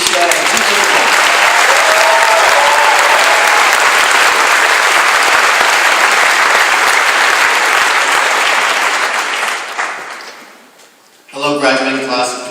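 A large audience at a class of 2014 graduation ceremony bursts into loud, sustained applause welcoming the valedictorians, the clapping lasting about ten seconds before fading, followed by a voice speaking.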